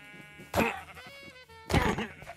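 Video game sheep bleat in two loud, wavering bursts about a second apart, with a faint tonal game background between them.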